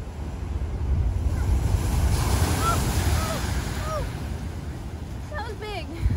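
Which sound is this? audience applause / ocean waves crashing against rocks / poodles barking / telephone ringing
ocean waves crashing against rocks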